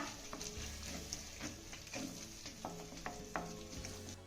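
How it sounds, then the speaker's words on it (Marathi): Ginger-garlic paste is stirred into fried tomato in a pan, a low sizzle running under repeated scraping and tapping of a spoon, close but quiet, with no voices. "आता ही घातली आलं लसूणची पेस्ट आपण चांगली मिक्स करून घेऊया"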